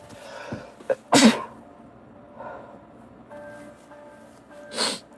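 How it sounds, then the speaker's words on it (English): A person sneezes during allergy season, two sharp close sneezes with a snort and breathy gasps between them, no talking. "My eyes burning, I'm sneezing."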